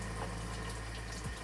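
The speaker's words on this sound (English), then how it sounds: "when we turn the hot water on, we can see practically instantly that we get 130 degree water from the tap" Hot water runs steadily from a tap fed by a point-of-use water heater installed under the sink, a continuous close-up rush of flowing water with a low pump-like hum beneath it.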